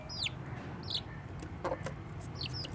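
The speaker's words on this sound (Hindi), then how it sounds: "उसके जो छोटे छोटे चूज़े हैं उनकी आवाज़ें तो आ रही हैं" Hen and her small chicks outdoors in a city park, giving brief high peeps and soft clucks in a few scattered bursts over steady low background noise.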